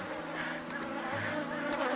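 Honeybees buzz steadily around an open hive during a colony split, a dense continuous drone close to the listener with no speech over it.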